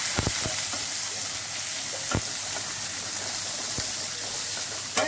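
Garlic, onion and tomato sizzle and crackle steadily in a hot pan, with a few sharp clinks of a utensil stirring, close by and without talking.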